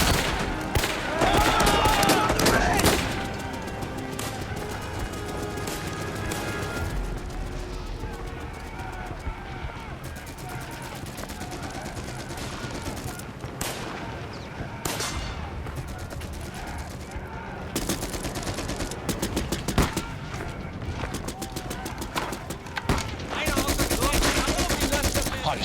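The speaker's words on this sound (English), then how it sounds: "Return fire!" Battle-scene gunfire from a D-Day war film: dense, continuous volleys of rifle and machine-gun fire mixed with explosions and shouting, loud throughout, with heavier bursts at the start and end.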